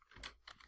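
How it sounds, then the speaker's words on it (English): Several quick keystrokes on a computer keyboard while entering a formula in a spreadsheet, three or four soft, close taps in an irregular rhythm with no voice. "We start typing equals"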